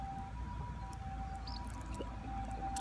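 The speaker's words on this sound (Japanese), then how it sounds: "ちょっとピーポーずっと言ってるんですけど" An ambulance-style siren sounds outdoors during a mountain bike ride, a faint, steady tone holding far off beneath a bed of ambient noise.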